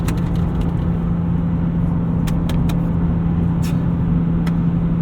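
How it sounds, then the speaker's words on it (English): Inside a 260,000-mile BMW E36 M3 on the move, a constant road and engine drone fills the cabin while brief, sharp interior rattles and clicks break through intermittently. "All the interior rattles in this car."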